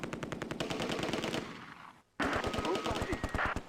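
Vickers machine guns in the Close Combat wargame firing loud, rapid sustained bursts, a brief gap of near silence, then another dense stretch of automatic fire.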